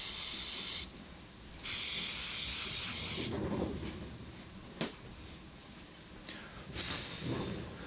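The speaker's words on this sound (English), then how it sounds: "Now I'm just going to follow it up with some quick drying electric cleaner." Aerosol can of quick-drying electrical contact cleaner sprayed in bursts onto a greasy part, giving a steady close hiss with short pauses and a small click midway.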